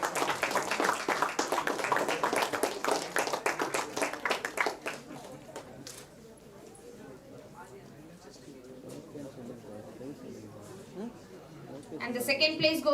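Audience applause for prize winners at a school quiz event, a dense burst of clapping in the first five seconds that fades into quieter room murmur and talk, with a brief flurry of claps returning at the end.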